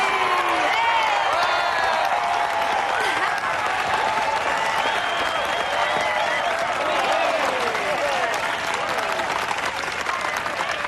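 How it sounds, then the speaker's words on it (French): Festival audience applauding steadily for a performer taking the stage, dense sustained clapping with scattered cheers and whoops throughout, loud and continuous from start to finish. "applaudissez de toutes vos forces"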